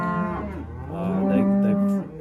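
A cow moos loudly and close in an old barn holding nervous cattle, one long drawn-out low call lasting about two seconds, heard alone with no talk.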